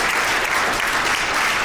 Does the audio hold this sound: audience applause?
yes